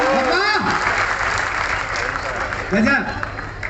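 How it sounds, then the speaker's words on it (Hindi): Audience applause at a live poetry gathering at a temple, a steady wash of clapping with voices rising over it, louder near the end. "थोड़ा और तालियों को घनीभूत कीजिएगा।"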